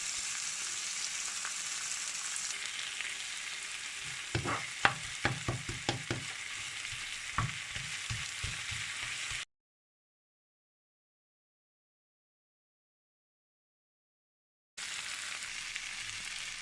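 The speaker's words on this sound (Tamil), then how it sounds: "வெங்காயம் வதங்கினதும் நம்ம கட் பண்ணி வச்சுருக்கிற தக்காளியை சேர்த்து நல்லா வதக்கிக்கோங்க." Chopped tomatoes sautéing with onions in a pan for baingan bharta, a continuous soft sizzle broken by a quick run of spatula scrapes and taps midway, then a long stretch of silence before the sizzle returns.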